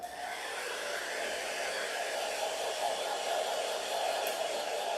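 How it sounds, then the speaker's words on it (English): A blow dryer whirs steadily at close range, a constant airy hiss and hum with no pauses, no talking over it. "back to the blow dryer."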